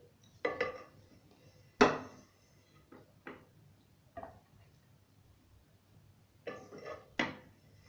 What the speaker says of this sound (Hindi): बहुत ही ज़बरदस्त किस्म के हमारे राइस बॉयल हो गए हैं। अब मैं इनको डिश आउट कर लूँगी।